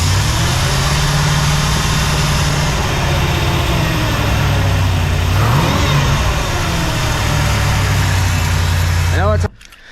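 A 1968 Ford Mustang's 289 V8 idles steadily with a low drone during timing checks, then revs up once in the middle before settling, and cuts off abruptly near the end.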